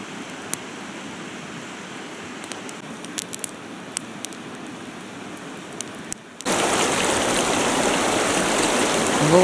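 A river flows at a bend in the Verkhoyansk Range, a steady rushing wash of water with scattered light clicks, turning much louder and closer for the last few seconds.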